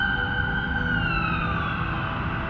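Ambulance siren in a short film, a loud, steady wailing tone that slowly drops in pitch as the vehicle draws near, with a low rumble underneath and no speech.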